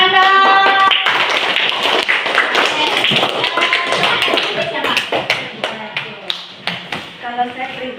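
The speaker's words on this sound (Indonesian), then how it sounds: "Tepuk tangan dong." Audience clapping hands: scattered claps that thin out into separate taps toward the end, mixed with voices and a tonal, musical-sounding background.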